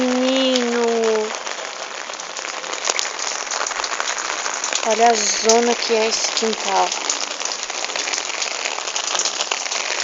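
Rain falls steadily on a house yard in São José dos Campos, a continuous patter that is fairly loud, while people talk over it at times.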